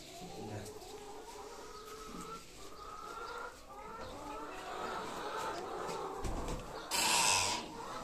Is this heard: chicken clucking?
yes